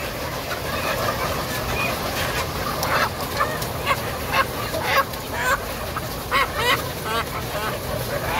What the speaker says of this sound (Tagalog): medyo mailap ang mga manok natin dito ngayon